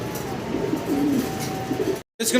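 Fancy pigeons coo in low, soft, repeated calls close by under a faint background hiss, with a brief cut of silence near the end.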